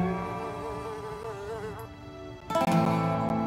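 A housefly buzzes close by, its wavering drone steady for a few seconds before a louder, harsher burst of buzzing near the end.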